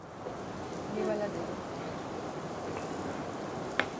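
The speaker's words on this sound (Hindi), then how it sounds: "बारिश हो रही है" Rain falls steadily in a soft, even hiss of drops on surfaces, quiet and constant, with faint sounds of people in the background.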